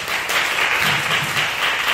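Applause at a church workshop fills the scene with dense, steady clapping from a gathered group, loud and continuous throughout with no talking over it.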